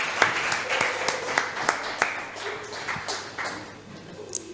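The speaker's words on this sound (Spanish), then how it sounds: "Un aplauso al Señor" A church congregation applauds in steady, overlapping claps at moderate volume, with voices and a sustained tone running underneath.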